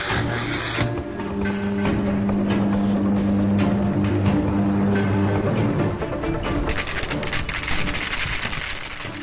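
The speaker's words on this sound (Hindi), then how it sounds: "ये बिजली की आवाज है, सुनकर ही करंट दौड़ पड़ता है।" Loud, steady electrical buzz and rasping crackle with a droning hum underneath, continuous for the whole stretch and growing harsher and brighter toward the end, with no voices.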